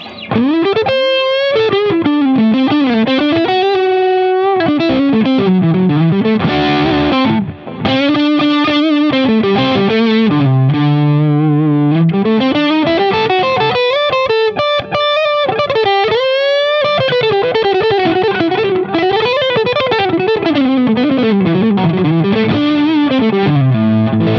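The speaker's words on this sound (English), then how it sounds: "I have that for a totally, slightly different kind of overdrive. It's a bit noisy." An electric guitar through a slightly noisy overdrive pedal plays a sustained, gritty melodic passage, loud and continuous, with held bends and shifting notes and no voices.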